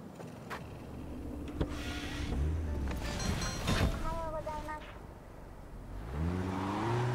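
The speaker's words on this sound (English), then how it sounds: "It drives off without a lot of fuss." Makigai MaiMai city car driving off up a hill climb at Lake Farm, a quiet engine whine rising in pitch as it pulls away, with wind buffeting the microphone and a voice talking over part of it.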